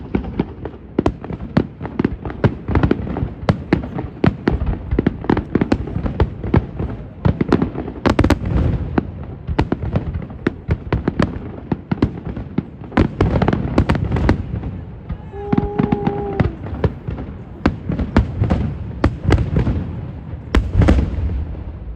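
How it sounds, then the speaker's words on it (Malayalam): A Canada Day fireworks display booms and crackles nonstop, with rapid bursts and sharp pops in dense succession throughout, loud and close, and a brief whistling tone partway through. "5 മിനിറ്റിൽ വെടിക്കിട്ട് തുടങ്ങും."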